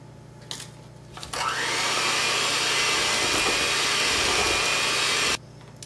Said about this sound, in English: we're just gonna mix until everything's all mixed together